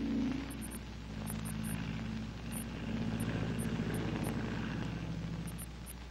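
Air tanker aircraft flying over a wildfire, a steady propeller engine drone with a low throbbing hum, moderately loud and continuous with no talk.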